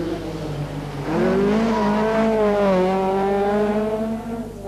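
A rally car on the 1983 Circuit of Ireland Rally accelerates hard nearby, its engine climbing through the revs and holding a high, strained note before easing off.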